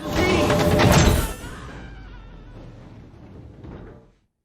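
Door opening in the TV series Fallout: a loud clattering burst in the first second or so, then a quieter rumbling scrape that trails off and cuts to silence.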